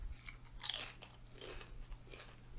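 Crunchy Mexican-style nachos supreme being chewed close to the mic, with a loud crisp bite and a few softer crunching chews following, no talking.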